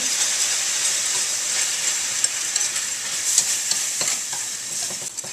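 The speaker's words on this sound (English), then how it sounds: "I'm going to whisk that in." Flour being whisked into reduced apple cider pan liquid while cooking pork chops, a steady close sizzle with continuous stirring and scraping throughout, no talking.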